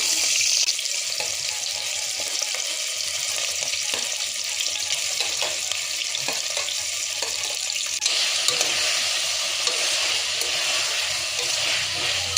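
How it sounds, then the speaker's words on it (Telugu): Chopped vegetables added to spiced oil for vegetable khichdi, sizzling and frying in a pan with a constant hiss and occasional stirring, no talking. "ఇంకా నేను కట్ చేసి పెట్టుకున్న వెజిటబుల్స్ వేస్తున్నాను"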